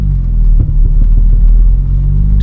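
A Mitsubishi Galant VR4 idles in a deep, loud rumble while brake boosting for anti-lag, a throbbing low engine drone with slight pulsing surges close up and no talk.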